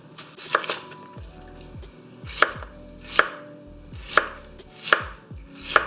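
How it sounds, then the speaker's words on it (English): A knife chops an onion on a cutting board in slow, evenly spaced strikes, each a crisp knock, close up with no talking. "we're going to start this recipe off by chopping up our onion."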